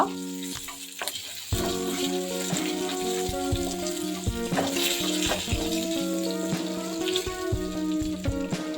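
Dried red chillies and curry leaves sizzle and crackle in hot oil while being sautéed for a ladies finger stir fry, a steady close frying hiss with sharp pops and stirring clatters, no talking.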